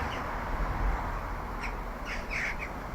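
Birds caw and squawk outdoors at night, a few short harsh calls arriving in a small cluster late on, set over a steady broad wash of wind-like background noise.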